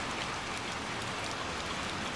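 Rain hisses steadily and evenly in a dense patter with no breaks or voices, a soft continuous wash of falling water from the video game Little Nightmares II.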